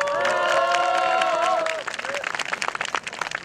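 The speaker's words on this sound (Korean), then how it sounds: "예, 박수 한번 드립시다." Crowd applause and cheering at the opening ceremony of the 10th Gimhae Mayor's Cup Yeongnam-Honam invitational jokgu tournament, dense and steady for a couple of seconds, with music or tones over it, then breaking into scattered, uneven clapping.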